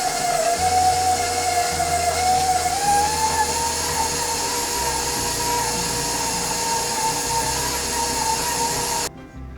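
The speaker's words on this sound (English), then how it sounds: "So just using the paddle attachment on your stand mixer. So we're gonna cream this together." A stand mixer with the paddle attachment creaming butter and brown sugar, a steady loud motor whine with a slowly rising pitch and a low rhythmic thump from the bowl, cutting off abruptly at the end.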